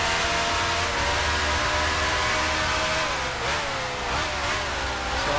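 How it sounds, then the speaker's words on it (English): A racing car in the video game Grand Prix Legends runs through grass, its engine droning loud and steady with shifting revs throughout, no voices. "Sounds like there's a car in the grass"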